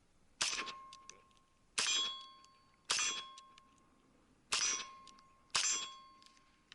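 Five sharp rifle shots from an X95 ring off a steel target at 25 yards, each a loud metallic clang with a ringing tail, spaced about a second apart, with no talking.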